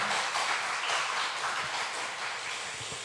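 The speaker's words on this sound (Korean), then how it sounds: "여러분 큰 박수로 환영해 주시면 감사하겠습니다" A church congregation at a Friday worship service applauds to welcome visiting guests, dense sustained clapping from a crowd filling the room steadily and fairly loudly throughout.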